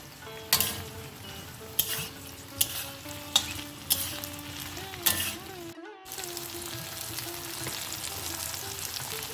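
Eggplant pieces added to potato and pumpkin in a pan for bethua shak, frying with a steady sizzle while a spatula stirs and scrapes in several sharp strokes, then a brief dropout before the sizzle continues.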